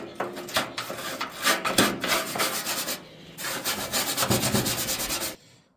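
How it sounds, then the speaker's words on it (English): A wire brush scrubs the inside of a Blackstone griddle during restoration, giving a steady, close rasping scrape in continuous strokes that pause briefly midway before resuming until a sudden stop. "So use this wire brush. Get all that stuff in there loosened right up."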